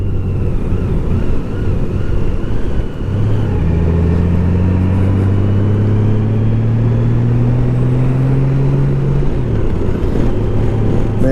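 A 2020 Honda Goldwing motorcycle engine braking on the road, a steady low drone that drops and slowly winds down in pitch under heavy wind rush, with no talking.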